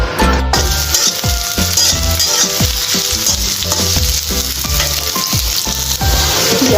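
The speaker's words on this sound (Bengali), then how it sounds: "এখন আমি এই যে পেঁয়াজ মরিচগুলো এগুলো দিয়ে দিব।" Onions and green chillies fry hard in mustard oil for a bharta, with a loud, steady sizzle throughout and repeated clinks and scrapes of a spoon stirring against the pan, and no talking.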